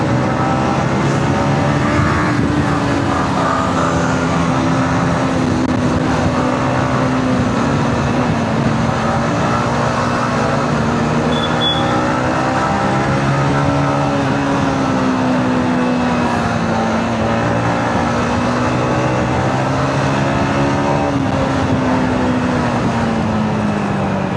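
A Yamaha MT15 motorcycle engine drones steadily and loudly throughout a street ride, its pitch rising and falling gently with throttle changes, with steady wind rush and no talking.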